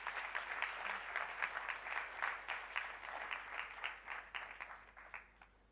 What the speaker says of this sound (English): Let us welcome him with a great round of applause